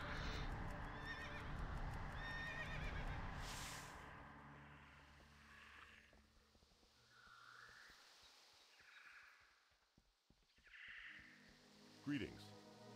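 A horse whinnies loudly over a dense game soundscape, followed by hoofbeats clip-clopping and softer ambient sounds as the scene quiets.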